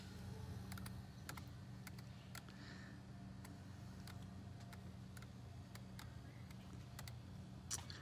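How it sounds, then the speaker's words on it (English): Faint, quick keystrokes on a computer keyboard come in irregular clusters, soft and close over a low background hum, with no talking. "You can also type in words, like if I wanted it to say awesome."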